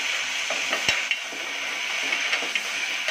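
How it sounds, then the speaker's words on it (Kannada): Peas fry in oil with salt in a pan, a continuous bright sizzle with occasional scrapes and a sharp clink of the stirring utensil against the pan. "ಇದೆಲ್ಲ ಬಟಾಣಿ ಕೂಡ ಹಾಕ್ಕೊಂಡು ಮತ್ತು ಒಂದು ಸ್ವಲ್ಪ ಎಣ್ಣೆಯಲ್ಲಿ ಫ್ರೈ ಮಾಡ್ಕೋಬೇಕು"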